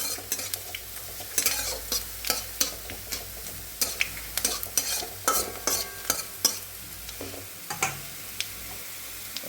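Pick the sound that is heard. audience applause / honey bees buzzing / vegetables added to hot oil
vegetables added to hot oil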